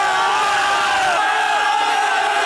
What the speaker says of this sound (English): the Bulldogs' victory sent Belmore into a frenzy